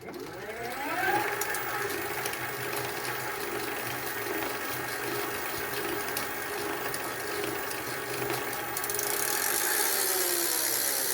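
An e-bike kit motor makes a steady whirring, ratcheting drone that runs continuously, close and fairly loud, with a slight rise in pitch and intensity near the end.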